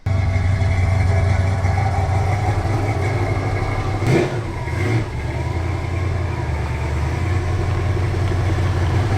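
A car engine runs steadily while the car is backed into a garage, a close, low idle with a brief rise in the middle and no talking.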